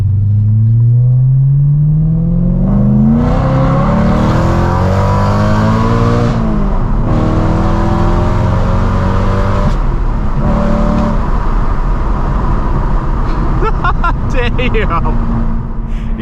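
A BMW E92 M3 running a catless aftermarket exhaust revs hard and loud up close, its pitch climbing and dropping through repeated sweeps, with a rough raspy edge and a few crackling pops near the end.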